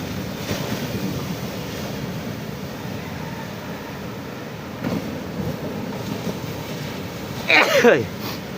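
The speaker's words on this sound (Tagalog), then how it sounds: "Hindi naman malalaki ang alon, baksak lang sa tabi." Small sea waves break softly along a shore with a boat nearby, under steady wind buffeting the microphone, with a brief louder surge near the end.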